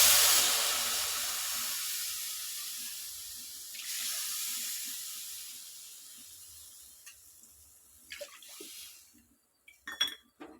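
Water poured into a pan for rava kesari, three cups in all, a steady rushing splash that fades and surges again, then gives way to a few close clinks of the cup and pan.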